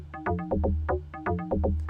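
FM acid synthesizer donk, short punchy plucked notes with a hollow bouncy tone in a quick repeating rhythmic pattern, fairly quiet and played alone.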